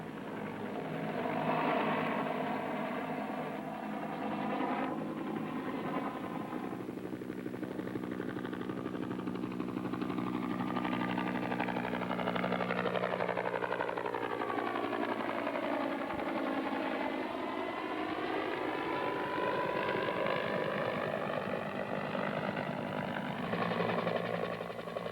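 AH-1G Huey Cobra gunship helicopter in flight, a continuous rotor and turbine drone whose pitch rises and falls as it passes, heard at a moderate distance without speech.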